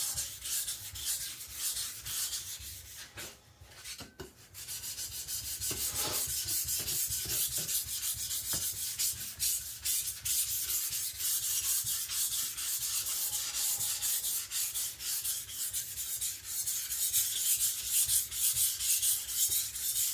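An IKEA Chinese cleaver sharpened on a whetstone, giving repeated rhythmic scraping strokes close up, with a brief pause early on before the steady grinding resumes and continues to the end.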